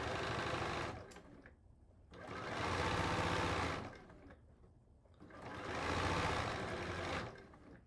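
A sewing machine stitches quilt seams in three long, steady whirring runs with short pauses between them. It is loud and close, and no one talks over it.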